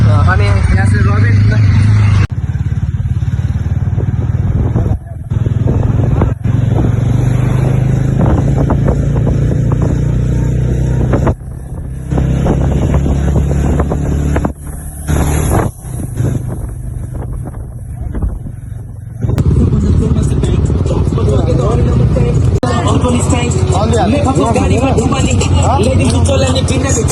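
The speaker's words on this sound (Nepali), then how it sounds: "लो बाइक चढिया छु राइडमा" Motorcycles and a scooter ride along a road in eastern Nepal, with loud, continuous wind buffeting the microphone over the engine rumble, broken by brief dropouts, as riders talk.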